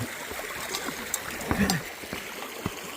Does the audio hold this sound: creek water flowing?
yes